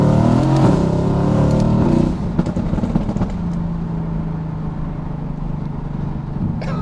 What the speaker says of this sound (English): I'm in third gear. Let me drop it down to second.